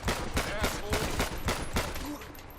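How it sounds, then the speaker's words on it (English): Rapid bursts of gunfire in GTA 5 with the LSPDFR police mod, a dense run of close, loud shots crackling in quick succession with a voice speaking faintly underneath. "we have another person shooting at us"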